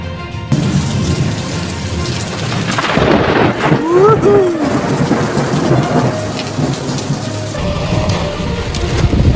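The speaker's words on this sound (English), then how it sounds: "Wow, it is bucketing down." Heavy rain pounds down during a severe thunderstorm in New South Wales, Australia, with a steady loud roar and a thunder rumble building in the middle, while a brief tonal sound rises and falls.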